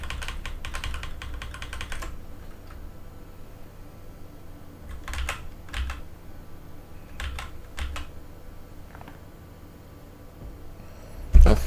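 Computer keyboard keys clack in scattered presses and short bursts while flying an F/A-18C in the DCS flight simulator, close and fairly crisp over a faint background hum, ending with a louder thump.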